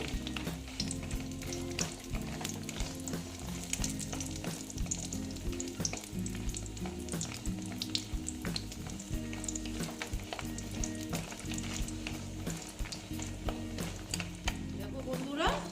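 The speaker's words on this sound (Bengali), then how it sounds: "বড়িগুলো আগে আমি ভেজে নেব" Dried lentil dumplings (bori) sizzle and crackle steadily in hot oil, close by, a busy continuous frying sound with small pops throughout.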